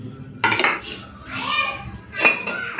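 A ladle scrapes and clinks against a plate and pot while serving fried okra beside rice and mashed potato, short bright metallic knocks in a few bursts, with a voice faintly nearby.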